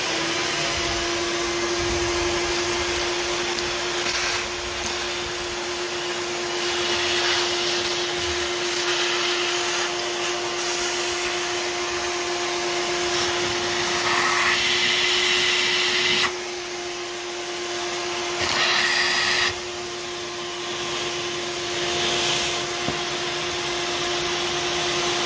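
A shop vacuum runs continuously while cleaning up in a workshop, a loud, steady, close whine with a strong constant hum and brief dips as the nozzle pulls in debris.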